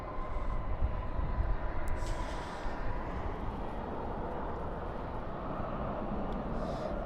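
A jet airliner rolls out after landing at Dallas/Fort Worth International Airport at night, spoilers up and thrust reversers roaring: a steady, broad, loud rumble that holds for several seconds with distant hiss above.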